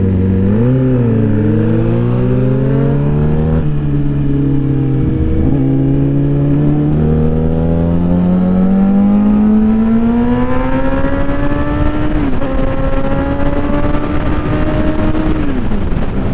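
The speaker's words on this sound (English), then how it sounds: "Today Johnny's on the Yamaha FZ09, and of course I'm on the GSX-R 750." Two sport motorcycles, a Yamaha FZ09 and a Suzuki GSX-R 750, ride together with steady, loud engine drone whose pitch climbs and shifts through gear changes, close and continuous throughout.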